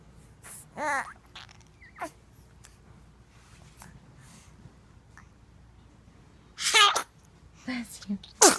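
A small baby gives a sneeze, with brief sharp bursts standing out near the start and again toward the end over a quiet room background.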